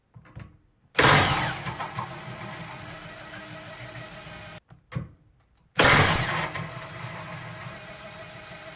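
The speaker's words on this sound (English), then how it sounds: "In anti-clockwise direction, the tool reduces its rotation speed as soon as the fastener is loose." A Parkside Performance 400Nm cordless impact wrench loosening a nut, two loud bursts of rattling hammering close by, each dropping to a lighter whirr as the nut frees, separated by a brief pause.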